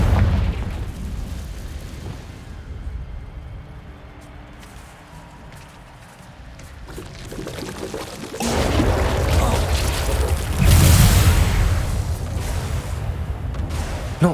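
Confringo spell explosion in Hogwarts Legacy, a deep booming blast that swells after a quieter stretch, with rumbling debris and game ambience around it.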